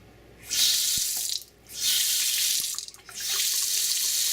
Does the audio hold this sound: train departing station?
no